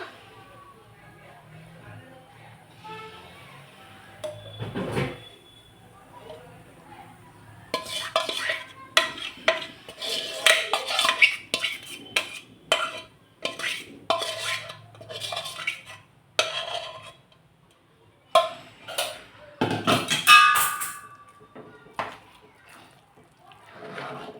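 Sweet pongal rice mixed with jaggery syrup is stirred in a pot with a utensil, giving irregular scraping clinks and knocks, louder in bursts toward the middle and end. Someone talks quietly throughout.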